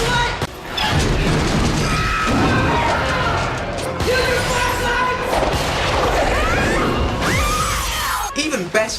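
Film-scene gunfire as police shoot out dim emergency lights: a dense run of loud shots, crashes and shattering over a booming soundtrack, with shouting voices mixed in.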